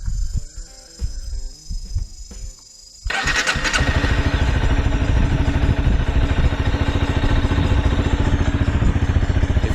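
A Honda CBR250R motorcycle engine with stock exhaust is started with a few cranking bursts, then catches and settles into a steady, loud idle that runs to the end.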